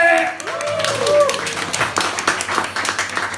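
An audience in a London pub venue breaks into applause, a burst of clapping rising after a brief moment of talk and carrying on with uneven, spirited claps to the end.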